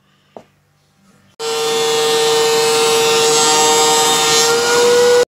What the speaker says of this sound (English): from here, we're going to go to the planer